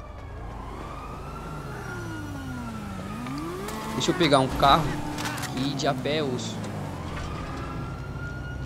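Police siren in GTA V wailing steadily under the action, rising and falling in pitch, with someone talking over it.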